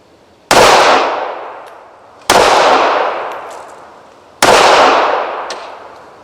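Three sharp, loud pistol shots from a Smith and Wesson Bodyguard .380, spaced about two seconds apart, each a crisp crack trailing off in a long ringing decay outdoors, with no talking.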